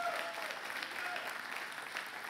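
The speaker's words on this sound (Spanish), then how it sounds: "Yo creo que usted le puede aplaudir mejor que eso." A church congregation applauds steadily during a Spanish-language worship service, a dense continuous wash of many hands clapping without pause.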